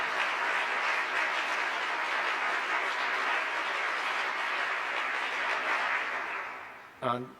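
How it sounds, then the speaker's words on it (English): Audience applause for the singers after a song at a Department of Justice World Elder Abuse Awareness Day event, steady broadband clapping from a crowd that fades out near the end. "let's give them a round of applause"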